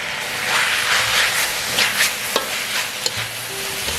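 Pork sausage stir-fried with yellow chili, spring onion and basil leaves sizzles loudly in a wok, a dense continuous hiss with scraping strokes of a metal spatula.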